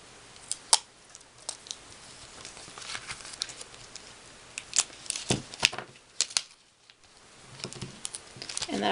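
Scissors snip through glossy magazine paper in a run of sharp, close clicks and crisp cuts, with light paper rustling in between during work on a magazine wallet.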